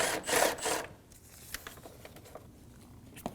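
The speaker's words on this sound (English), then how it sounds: "Using a 10mm socket, we're going to loosen the battery hold down." A 10mm socket works loose the battery hold-down on a 2019-2025 Ram 2500, opening with a loud burst of rubbing, rasping metal and then trailing off into faint, scattered clicks and ticks.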